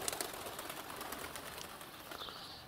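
Pigeons coo softly amid a busy outdoor hiss, low murmuring calls repeating under steady background noise, with no speech.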